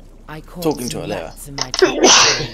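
A single sharp sneeze near the end, coming right after someone talks briefly over quiet background sound.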